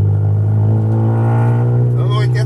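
A Ford Escort with a Zetec engine, under an injection map test, holds a loud, steady low rev hum up close, with a short pitch change at the end.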